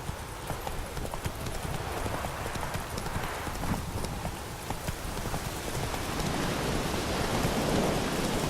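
Horse hooves galloping in The Witcher 3, a fast continuous clip-clop over a rainy hiss, steady and fairly close, with no talk.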